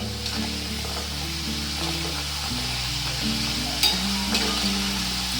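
Semolina snacks frying in hot oil in a wok, a dense continuous sizzle with scraping and stirring sounds from a utensil, close and steady, with faint clinks near the end.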